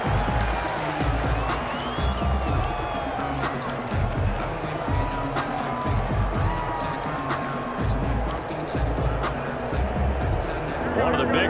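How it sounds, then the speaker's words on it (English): In the Madden NFL 21 video game, a stadium crowd roars steadily throughout a 49ers at Rams matchup while a commentator keeps talking over the noise. "the crowd getting into it as we come up on a big third down"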